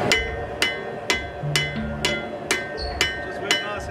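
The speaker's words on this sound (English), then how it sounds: "Now change hammers to my Japanese style forging hammer." A Japanese style forging hammer strikes a hot knife blade at a steady pace, eight sharp metallic clanks about half a second apart, close and loud, with a faint hum underneath.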